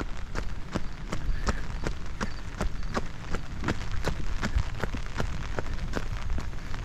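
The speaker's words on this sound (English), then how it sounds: "I'm jogging down the rainy road." Jogging footsteps on a wet rainy road in Indiana, a steady rhythmic patter of quick strides under a constant hiss of falling rain.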